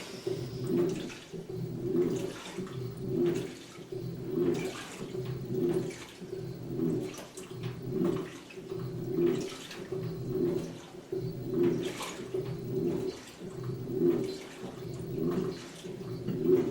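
A 2006 GE Profile washing machine on its rinse cycle churns water in a steady, repeating sloshing rhythm, with a swish roughly every second, fairly close and with no voices.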